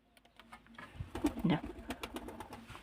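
Pigeons coo in soft, repeated rounds close by, their low throaty calls rising and falling over a few seconds without any talking.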